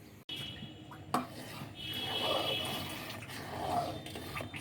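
Milk for phirni being stirred in a pot, soft scraping and swirling of a spoon against metal with a few clinks, fairly quiet and close, no talking.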